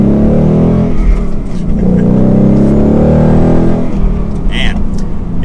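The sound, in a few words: 2021 Ford Mustang GT manual engine revving, exhaust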